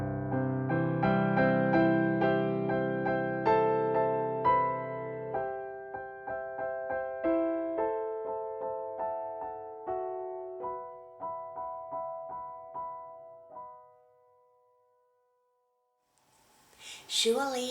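A slow, expressive piano melody played with a romantic, longing touch: sustained chords at first, then sparser singing notes that fade out, with a brief rustle at the end.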